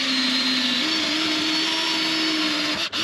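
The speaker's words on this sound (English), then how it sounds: "then we'll drill two holes in the bottom, one for the electrical, one for the water line" A power drill bores holes through the bottom of a kitchen island cabinet, making a steady, close, high motor whine that shifts slightly in pitch and cuts off briefly near the end.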